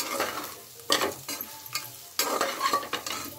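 Okra stir-frying in a pan at home, with repeated scraping stirs over a steady sizzle and bursts of frying crackle, close and moderately loud with no talking.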